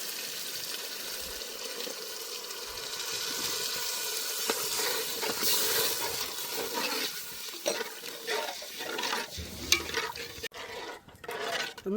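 Masala gravy with coriander-cumin powder, Kashmiri red chilli powder and kitchen king, thinned with a little water, sizzles and hisses steadily in a pan. A spoon scrapes and stirs it close up, with sharper clatters toward the end.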